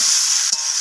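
Vegetables and eggplant stir-fry in a pan for a snake gourd and rohu fish roe dish, giving a loud, continuous hiss with a brief scraping stir partway through.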